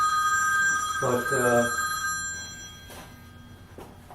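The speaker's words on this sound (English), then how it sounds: "I'm going to have to try to just let that phone ring out and ignore it" An indoor telephone rings with a steady electronic trill, fairly close and clear, with a brief spoken word cutting in partway through.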